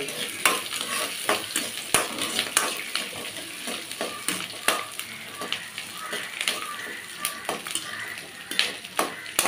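Ginger and garlic stirred and fried in a pan, a steady sizzle broken by frequent sharp scrapes and clinks of a spoon against the metal, close and fairly loud with no talk.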